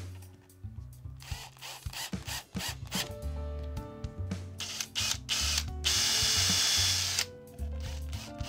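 A drill driving flat head screws into a wooden multi-roll tape dispenser: whirring bursts of the motor, stuttering ratchety clicks as the screws bite, then a longer high-pitched whine.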